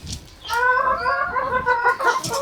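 Backyard chickens clucking and murmuring close by in a steady, continuous burble of calls, fairly loud, with a few sharper notes near the end and no speech.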